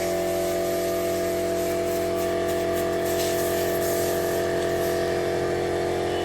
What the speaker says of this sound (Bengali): কেন এই আমার মেশিনে পাম্প মেশিন অন করে দিয়েছি।